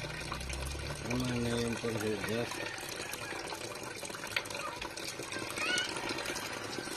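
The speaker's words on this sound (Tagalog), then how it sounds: "pag ganito kalakas lang ang tubig na higop, ayun, grabe ang pressure, oh." Water rushes from a pump under strong pressure, a continuous hissing gush with splashing and gurgling, while people talk nearby.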